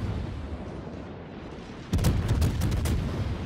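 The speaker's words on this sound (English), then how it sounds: "Ah, that was a nice salvo." A World of Warships battleship fires a salvo: after a quiet stretch of ambient hum, a sudden heavy boom of big guns erupts, followed by rolling, rumbling reports that stay loud for over a second.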